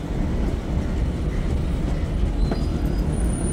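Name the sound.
train on railway line near Chiplun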